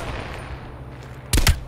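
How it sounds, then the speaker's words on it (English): A quick burst of two loud gunshots in Call of Duty Cold War rings out near the end, following a stretch of low ambient game noise. "I shot him."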